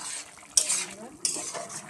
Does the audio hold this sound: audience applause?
no